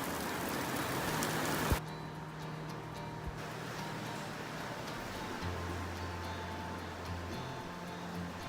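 Steady rain patters on a surface, a constant close hiss that carries on throughout, with a brief sharp knock near the start.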